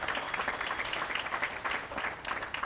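An audience at a county Republican gathering for South Carolina gubernatorial candidates breaks into a brief round of steady, moderately distant clapping with no talk over it.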